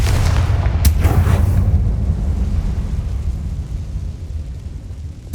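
A Confringo fire spell explodes in the Hogwarts Legacy video game, a loud booming blast that rumbles heavily and fades over several seconds without any voices.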